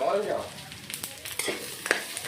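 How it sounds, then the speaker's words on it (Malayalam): Grated coconut, shallots, fennel seeds and curry leaves sizzle and crackle as they roast over a low flame in a pan, with short scraping stirs breaking through the quiet frying. "ഒരു ചെറിയ തീയിൽ വെച്ചിട്ട് നന്നായിട്ട് ഒരു ബ്രൗൺ കളർ വരെ നമുക്കൊന്ന് വറുത്തെടുക്കാം"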